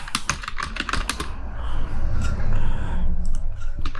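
Rapid computer keyboard typing, a run of close, crisp key clicks with an irregular rhythm under faint room noise, heard alone without talk.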